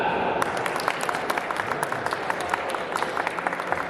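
Audience at a convention panel claps and cheers in a dense, steady wash of applause lasting the whole stretch, with scattered sharp claps standing out and a voice faintly heard beneath.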